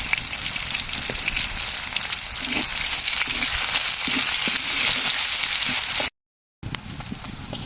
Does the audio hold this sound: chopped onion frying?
yes